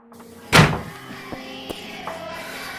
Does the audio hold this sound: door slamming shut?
yes